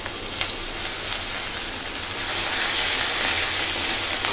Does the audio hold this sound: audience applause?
no